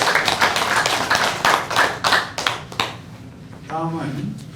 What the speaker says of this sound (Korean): 우리 소개되신 송주환 이사장님께 다시 한번 박수 부탁드립니다